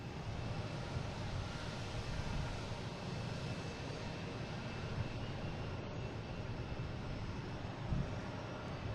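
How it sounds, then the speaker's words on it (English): JetBlue airliner arriving at Boston Logan from Cleveland, a faint, steady distant engine rumble lasting the whole stretch with no voices over it. "JetBlue coming in from Cleveland"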